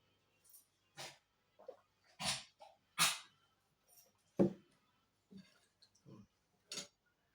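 A dog at a dinner table chews bones in short, close bursts of crunching, snuffling and gnawing, with quiet pauses between them.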